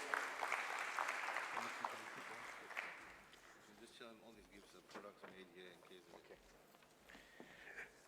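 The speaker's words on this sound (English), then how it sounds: "Please give a big round of applause." Audience at a KwaZulu-Natal trade and investment event gives a round of applause during a gift presentation, a dense burst at first that thins into scattered claps while voices murmur over it.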